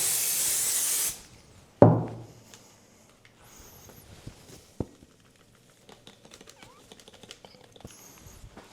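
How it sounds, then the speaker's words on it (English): Glue is sprayed onto a table being flocked: a steady high hiss for about a second, then a louder close burst, followed by faint scattered taps and handling noises in a quiet room. "That definitely went down better where I sprayed the glue and then went over it straight away"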